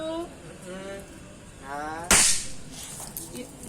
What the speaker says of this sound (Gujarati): હું ફટાકડા ફોડું છું